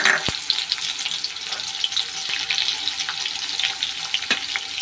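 Cumin seeds and onion hit hot oil already holding dry red chillies, producing a steady, close, crackling sizzle with small pops and no talking.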